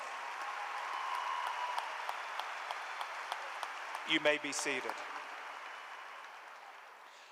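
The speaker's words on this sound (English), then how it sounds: "Please join me in giving these individuals a round of applause." A high school graduation audience at Coronado High School applauds in a steady, even wash of clapping that fades slightly before a single voice speaks briefly near the end.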